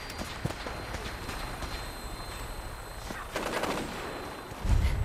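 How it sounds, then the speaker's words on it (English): Gunfire in Fallout 4 as characters shoot a courser, with sharp scattered shots and rapid bursts at moderate loudness amid other game sounds. "Oh, they're really shooting the courser, huh?"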